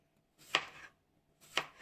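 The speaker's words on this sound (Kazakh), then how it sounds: "Одан соң қиярымызды видеодағыдай домалақтап осылай турап шығамыз." A knife slices a cucumber into rounds for burgers on a board, giving two crisp, evenly spaced cuts in a quiet kitchen.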